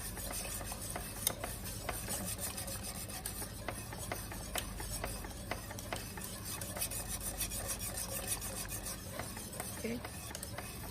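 A whisk scrapes rhythmically and steadily against a pot while stock is stirred into a creamy mushroom soup base, close and faint with no talking.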